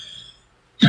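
A single short, rough cough sounds close to the microphone after a faint fading tone.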